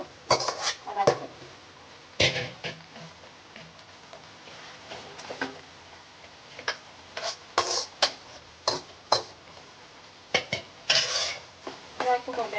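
Fried chilli chicken goes into a pan of tempering and gets stirred, giving irregular metallic scrapes and clinks of a spoon against the pan with quiet gaps between strokes.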